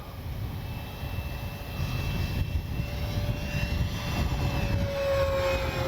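FMS Cessna 182 1500mm RC model airplane flying at full speed into the wind on a windy day, its electric motor and propeller giving a steady, sustained drone with a faint whine, fairly near throughout.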